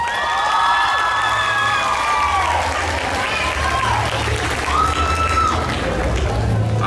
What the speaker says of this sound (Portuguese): Ô gente, cadê as palmas?